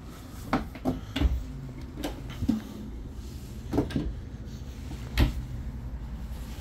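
Several full-extension drawers in a 2023 Grand Design Imagine 2800BH travel trailer slide open and shut, each a soft thud or rumble spaced a second or two apart, close by in a quiet room.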